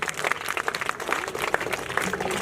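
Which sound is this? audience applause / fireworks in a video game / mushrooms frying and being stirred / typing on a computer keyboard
audience applause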